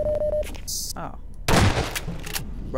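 Shotgun blasts in Half-Life 2 during an airship battle, a loud close boom with crackling aftermath, preceded by game beeps and bleeps and with a voice briefly talking.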